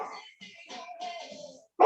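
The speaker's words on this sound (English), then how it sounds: "He barks at his reflection in the sliding glass mirrors that we have." An 11-month-old black lab puppy lets out one sharp, loud bark close by at the very end, after a stretch of softer vocal sounds and whines.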